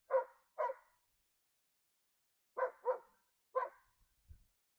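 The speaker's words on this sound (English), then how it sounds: "There's two dogs." Two dogs barking outdoors: a pair of sharp barks, a pause, then three more, fairly near and alone with no talking, ending in a faint low thud.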